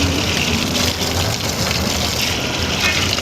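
Water from a public fountain in Dilijan, Armenia, gushes in a steady, loud, close broadband rush that holds even throughout.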